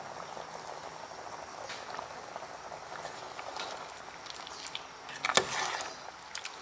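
Taro and banana simmer in coconut milk in a pot, giving a quiet, steady bubbling with scattered pops and a brief louder burst of bubbling near the end.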